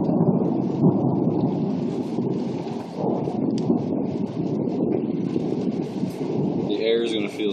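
Thunder from a nearby lightning storm rumbles deep and loud, rolling continuously alongside rain, while voices talk faintly near the end.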